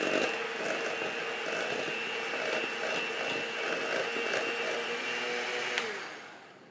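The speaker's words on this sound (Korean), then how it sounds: "버터가 준비가 됐으면 버터를 먼저 조금 풀어줄게요" An electric mixer whirs at a steady pitch as it loosens softened butter in a bowl for oatmeal chocolate cookie dough, running continuously for several seconds before winding down.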